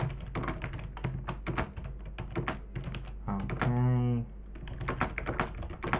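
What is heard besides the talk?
typing a reply to a customer on a computer keyboard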